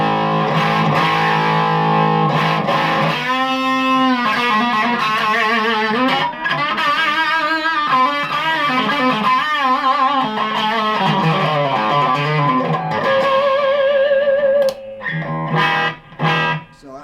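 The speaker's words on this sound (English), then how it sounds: "It's adding a pretty decent amount of drive and distortion, grit." Electric guitar through an Electra MPC Dynamic Fuzz effects module, heavily driven and gritty, playing chords and melodic lines loudly, ending with a few sharp stabs and decaying notes.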